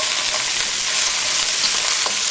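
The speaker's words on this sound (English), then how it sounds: "we're just going to stir fry that for about 30 seconds" Ginger and green onion stir-frying in hot oil for a shrimp dish, a loud, dense, continuous sizzle close by with faint stirring ticks, no talking.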